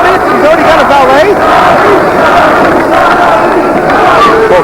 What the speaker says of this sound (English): crowd obviously favoring Sabu in this match